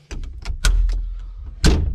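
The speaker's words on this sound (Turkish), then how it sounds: "Kapı da kolay açılıyor." A Yağmur 510 cab door clunks open with a solid thunk, followed by a second louder thump, with faint mechanical taps in between.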